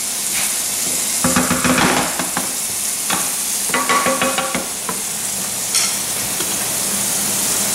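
Hot tap water runs into a kitchen sink while hamburger grease is drained from a pan, a steady close rushing hiss broken by scattered clinks and scrapes of cookware.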